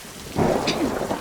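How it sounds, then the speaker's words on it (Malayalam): Thunder rumbles during a rainstorm near a railway line in Melattur, a short, low rolling swell that rises suddenly over a steady hiss of rain. "ചെറുതായിട്ട് ഇടിവെട്ടൊക്കെ ഉണ്ട്"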